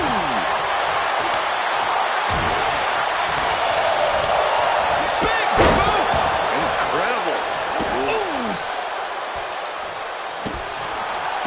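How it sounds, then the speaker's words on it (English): A wrestler is slammed with a sitting powerbomb at a pro wrestling match, a heavy thud against the roar of a cheering arena crowd, with commentators talking throughout. "Sitting powerbomb."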